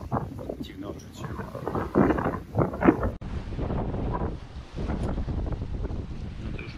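Wind gusting over a sailboat on open sea under storm clouds, a steady rushing roar with buffeting bursts on the microphone, heavy and close, while someone talks over it throughout.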